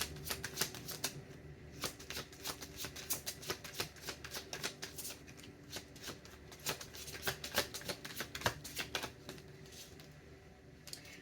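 Tarot cards are shuffled and laid out in a quiet room, a close run of sharp, irregular riffling snaps and taps that continues throughout at low volume with no talking.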